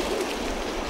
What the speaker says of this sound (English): The crows are bringing the zombies!